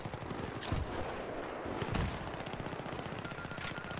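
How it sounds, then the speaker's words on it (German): Mortar fire in the video game Battlefield 3 on a multiplayer match: a couple of heavy thumping launches punch through a constant rumble of distant battle noise, with a faint electronic beeping toward the end, no talking. "ich mörse eine Runde"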